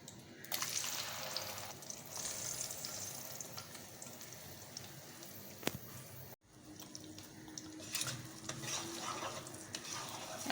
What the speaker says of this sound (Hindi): 2 मीडियम साइज़ की हमने प्याज ली है, ये इसमें हम शामिल करेंगे।